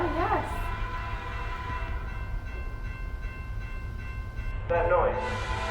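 A train rumbles steadily at a central station, with a steady low drone and short siren-like wails at the start and near the end.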